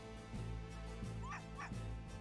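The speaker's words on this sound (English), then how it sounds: "Wait a minute, that aggressive bark?" A dog barks aggressively in the Professor Layton vs Phoenix Wright video game, sounding as three short yapping barks evenly spaced over a steady game soundtrack.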